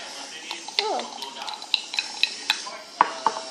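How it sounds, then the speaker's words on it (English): Thick slime is stirred in a container, giving squelchy, sticky clicks and pops in a quick irregular rhythm close up, with a voice audible briefly. "And let me stir and stir."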